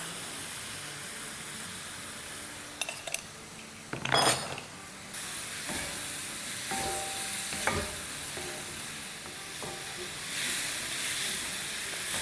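Chopped medium onions with a teaspoon of salt sizzle and fry steadily in a pot, with spoon stirring and clinks against the metal breaking through the continuous hiss.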